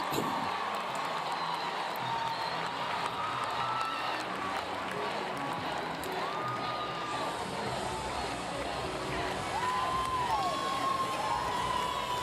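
Home crowd at a college gymnastics meet in Clemson, with NC State competing, cheering and whooping steadily after a landing. A broad, sustained roar with scattered shouts and whistles continues throughout at moderate distance.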